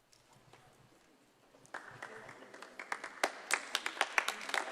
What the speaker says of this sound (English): Some one of the people there that's hosting to say no clapping, and they clap.